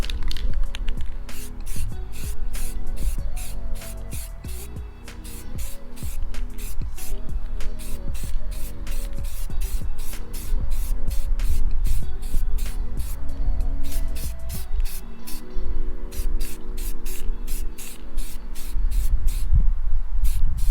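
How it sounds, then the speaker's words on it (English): A spray paint can lays a clear coat onto a car bumper, giving a steady, continuous hiss that runs under loud rhythmic background music. "So I'm just gonna go ahead and spray paint that right now"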